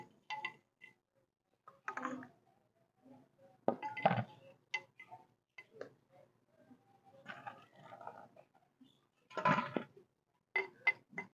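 Scattered soft thuds and clinks of spice-coated mutton pieces being set into a handi pot, irregular placements with quiet gaps between them.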